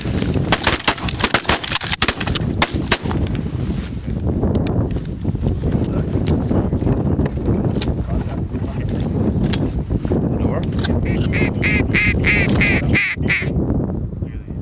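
Mallard ducks quack repeatedly during a duck hunt from a boat, the calls mixed with strong wind buffeting the microphone and rumbling water noise, with a clear burst of quacking near the end.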